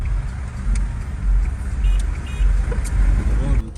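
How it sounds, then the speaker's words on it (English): Matatu minibuses in rainy Kenyan traffic produce a steady, loud wash of engine rumble and road noise, with faint beeps and horn-like blips now and then, all fairly close. "It's raining, it's pouring, and the matatus are loud."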